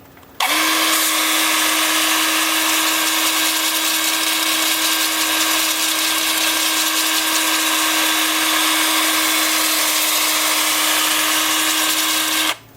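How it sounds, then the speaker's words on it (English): A 2-inch disc sander works black cherry wood spinning on a lathe at about 320 RPM, a loud, steady high whine with hissing abrasion that starts abruptly and stops cleanly. "with the 2-inch disc sander, as I said, starting at 80 grit and working up to 400"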